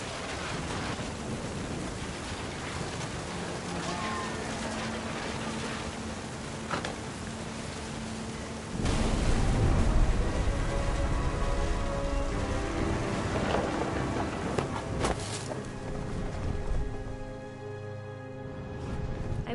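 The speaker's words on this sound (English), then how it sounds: "The thunder sounded much too close and full of angry power." Steady rain pours down in a thunderstorm in the video game What Remains of Edith Finch. Midway a deep roll of thunder swells up close, then fades back under the constant hiss of the rain.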